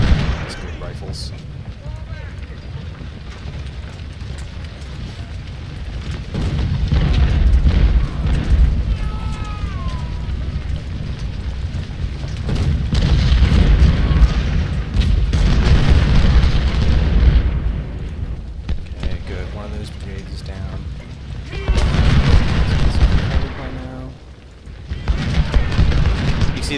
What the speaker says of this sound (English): See the power of one of these brigades, one volley routs that entire brigade.